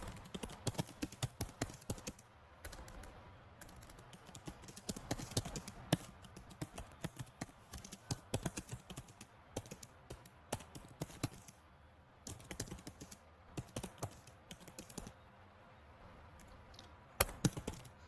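Random text typed on a computer keyboard, a rapid, irregular clatter of close keystrokes with short pauses and occasional louder key hits, no talking.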